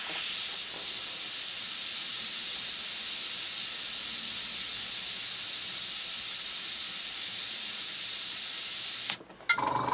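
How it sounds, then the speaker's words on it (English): Steady airbrush hiss as paint is sprayed through a stencil, one continuous close jet of air that cuts off abruptly near the end with a few brief stuttering pulses of the trigger. "you need a bit of extra trigger control here on your airbrush."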